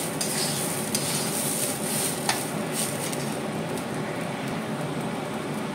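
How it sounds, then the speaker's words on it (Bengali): Rice sizzles steadily as it fries in homemade ghee for a vegetable pulao, with a utensil stirring and scraping through the grains in the pan, close and continuous, no talking. "যদি বেশি জোরে জোরে নাড়াই তাহলে আমার চালটা ভেঙে যেতে পারে। এই যে একদম ভালো করে ভেজে নিচ্ছি।"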